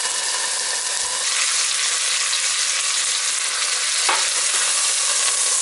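Beef searing fast in very hot oil in a pan for a braised stew, giving a steady, loud, dense sizzle that runs unbroken throughout with no talking.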